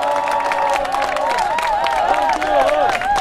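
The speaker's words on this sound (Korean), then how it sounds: "큰 박수 부탁드립니다." A crowd at an election campaign rally in Jongno for candidate Hwang Kyo-ahn claps and cheers in a loud, continuous wash, with shouting voices and whistle-like tones weaving through the noise.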